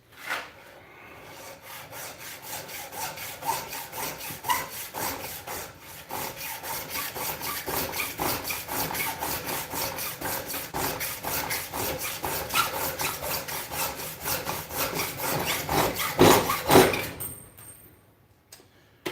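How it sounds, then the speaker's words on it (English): A hacksaw cuts through bronze bolster pieces for a knife handle in a steady rhythm of quick rasping back-and-forth strokes, close and continuous, stopping near the end. "I am, however, going to use my hacksaw for these bolsters."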